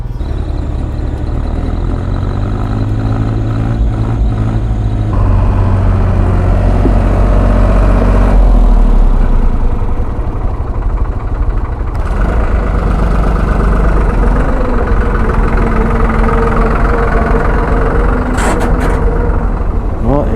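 Heavy diesel engine rumbling loudly and continuously nearby as a tractor on a narrow rough mountain road in Nepal idles and begins to pull away, with a few abrupt shifts in tone.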